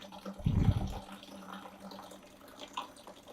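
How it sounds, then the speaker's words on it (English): Water gushes briefly from a tap opened on laboratory apparatus during a school science experiment on the breathing of organisms, a short low burst that fades into faint bubbling and room noise. "Now I am going to open the tap so that the water will release"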